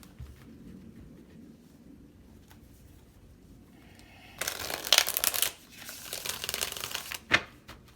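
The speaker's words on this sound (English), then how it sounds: "One more shuffle." Soft background rustle, then a burst of crisp riffling as tarot cards are shuffled, followed by a second, shorter shuffle and a sharp snap.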